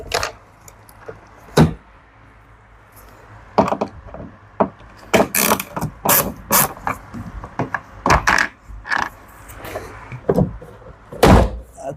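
Honda City door trim panel being pried off its retaining clips, a series of sharp wooden-sounding pops and clunks, loud and close, scattered irregularly with quiet gaps between, no talking.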